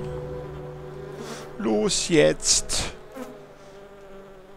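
A fly buzzes in flight in the video game The Plan, a steady, close insect drone, with someone speaking a few words over it midway.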